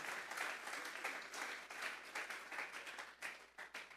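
A church congregation claps together in a steady, dense wave of applause lasting several seconds, heard at a moderate distance with no voices over it.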